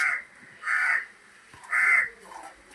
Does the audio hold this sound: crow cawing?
yes